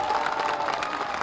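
Crowd clapping at an outdoor election rally, a dense patter of applause with scattered cheers, steady and fairly loud.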